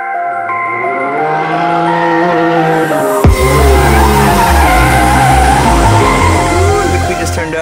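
A drifting car's tires skid and squeal loudly over a roaring engine, the sound turning harsher and louder partway through and continuing unbroken to the end.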